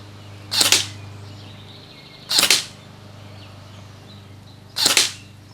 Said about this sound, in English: we fired 3 rounds just to see if there's a grouping down here